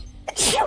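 A single sharp, breathy sneeze in the video game The Hundred Line bursts out, short and close, after a moment of quiet.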